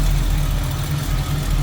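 A 1967 Pontiac Firebird convertible's engine idles smoothly, a loud, steady low rumble with an even throb, heard close and alone.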